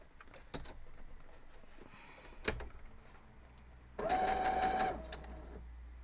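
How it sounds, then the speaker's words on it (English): A sewing machine stitching a quilt block gives one short, close burst of whirring near the end, preceded by quiet handling clicks and taps of fabric and tools. "from the sewing machine, I'm just going to grab that and sew it."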